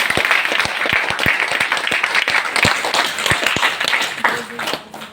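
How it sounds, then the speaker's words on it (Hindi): Audience at a DXN business opportunity meeting at the Patna branch claps hard, with sharp individual claps standing out over a busy bed of applause before it thins out at the end. "सबसे पहले एक बार रिएक्शन के लिए जोरदार ताली होना चाहिए"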